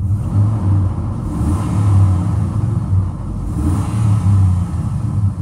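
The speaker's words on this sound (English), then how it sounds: "Let me rev it up for you." A 2002 Dodge Ram 1500 shortbed pickup engine revs in a steady low rumble, swelling in repeated throttle blips up close, with no talking.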